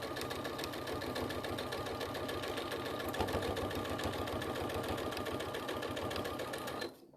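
A sewing machine runs steadily and fast while stitching down a patchwork piece, a close, even rapid rattle lasting several seconds before stopping abruptly at the end, with no voices.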